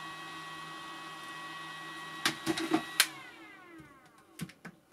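A Makita dual rapid battery charger runs steadily with a whining fan and a high electronic tone, broken by several sharp clicks and clatters near the microphone.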